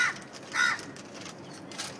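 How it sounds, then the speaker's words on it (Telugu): A crow caws twice, harsh and fairly close, with faint background noise between the calls. "అది కాకి చూడండి ఎలా అరుస్తుందో"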